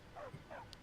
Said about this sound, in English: I think that's the dog that's, like, supposed to be mine.